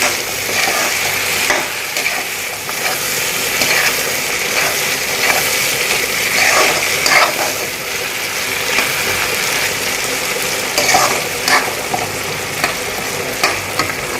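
Butter chicken fries in a pan while being stirred, a steady close sizzle with intermittent scraping and clinking of the spoon against the pan, continuous and fairly loud with no speech.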